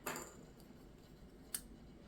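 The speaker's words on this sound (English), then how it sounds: "we're using scissors" Scissors snip embroidery thread during cross stitch and punch needle work: two faint, sharp clicks about a second and a half apart in a quiet room.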